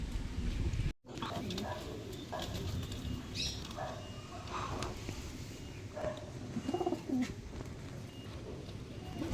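Pigeons coo softly in low, repeated throaty calls, several birds near and far, after a brief sharp cutoff at the start.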